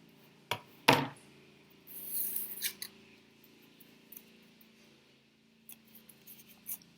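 A tool scores a crease line into paper for a non-adhesive book cover, giving a few sharp taps and a short scraping drag up close, followed by faint, sparse scratches in a quiet room.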